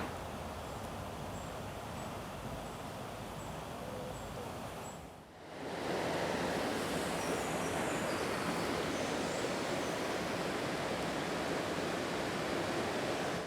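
The River Kennet, a chalk stream, flowing steadily as a broad close rush of water, with a brief dip midway before the flow resumes fuller and louder.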